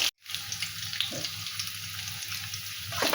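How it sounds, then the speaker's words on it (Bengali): Potatoes with turmeric sizzle steadily in hot oil, close and continuous, with a brief dropout at the start and a couple of soft stirring knocks. "এটা ভালো করে ভেজে নেব।"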